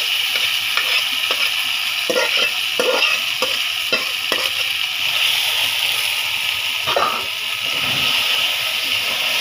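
Chunks of taro frying and being stirred in a pan, a steady loud sizzle with repeated scraping strokes of the spatula throughout.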